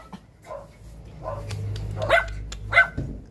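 A puppy yips and barks in several short, high bursts, close by, with a soft low rumble underneath.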